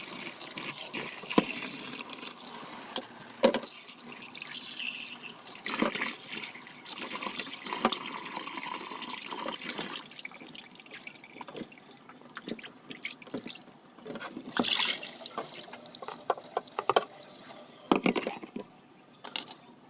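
Tap water runs and splashes while yellowfin fish slices are rinsed. It is a faint, uneven trickle with scattered drips and shifting splashes, and no one speaks.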